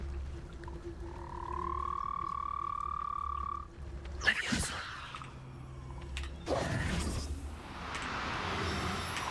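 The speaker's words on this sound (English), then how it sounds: "All right, I see 3 toads." Toads croak in Hogwarts Legacy, a steady rhythmic trilling over a low ambient game hum, then breaking off into a couple of louder rustling bursts and footstep-like noises.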